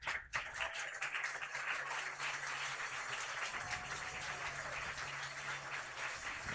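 Sustained crowd applause at a collegiate summer league baseball playoff game fills the space, steady and broad, with a low hum underneath and no one speaking over it.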